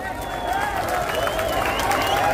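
A crowd applauds and cheers at a dahi handi festival as a seven-tier human pyramid stands, a dense clatter of claps under someone speaking over a loudspeaker.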